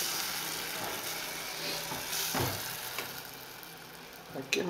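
Gorgonzola sauce sizzling in a pan, a steady broadband frying hiss throughout with faint clinks near the end, people talking quietly in the background.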